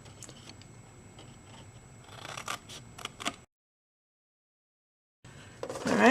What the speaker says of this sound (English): I'll take the scissors and I'm going to cut along this score line up to the crossing score line